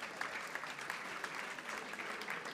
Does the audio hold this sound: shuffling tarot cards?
no